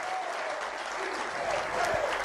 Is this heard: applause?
yes